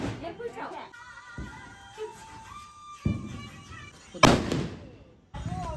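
Diwali firecrackers going off nearby in a village: a rising whistle, then a sharp bang, with people talking around it.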